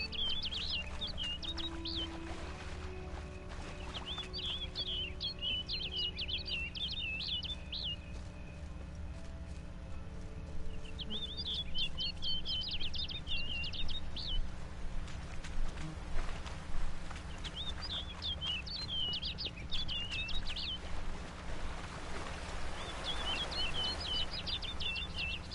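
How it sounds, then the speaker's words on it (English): Bird calls in The Witcher 3 game world sound in repeated bursts of bright chirping and twittering, several clusters spread across the stretch over a steady low ambient hum, moderately close. "Looks like the bird's leading me somewhere."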